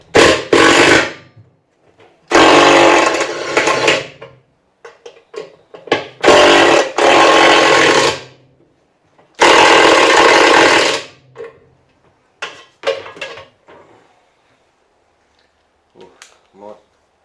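A power tool drives a socket on several stacked extensions while a scrap washing machine is stripped for copper, firing in loud bursts of a few seconds each with brief pauses and small clanks between.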